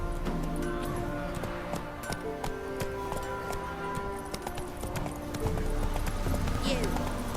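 Horse hooves clip-clopping in the Witcher 3 video game, giving a steady trotting rhythm close by, joined by creaks and small clicks, while a voice speaks over it.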